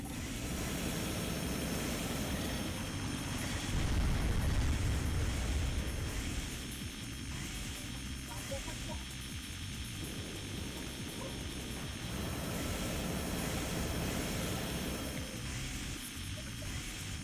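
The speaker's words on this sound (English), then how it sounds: "The one thing I do hate about this old game is the sound glitch with planes." Steady droning aircraft engine from the Armored Core 2 video game, a continuous roar with a glitchy, buzzing texture and a brief swell in loudness, heard alone without talk.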